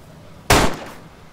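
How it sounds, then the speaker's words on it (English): A single sharp shotgun blast from DayZ Standalone, close and loud, bursting abruptly and decaying within a fraction of a second against quiet background. "the shotgun"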